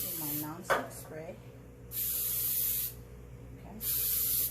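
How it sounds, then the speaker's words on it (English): Non-stick cooking spray hissing into a 9-inch loaf pan for Jamaican spice bun in two steady bursts of about a second each, close and bright, after a brief stretch of kitchen handling sounds. "Spray it with my non-stick spray."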